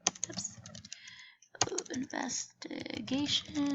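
Keys clatter in quick bursts on a computer keyboard, close and crisp, while a person talks over the clicking.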